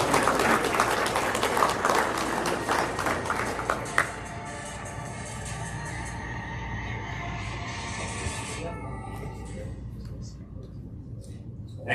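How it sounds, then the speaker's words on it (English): An audience at a drone racing regional event claps for a team for about four seconds, a dense burst that then drops away into a noisy hall with murmuring voices and background hum. "A round of applause for Fargo South."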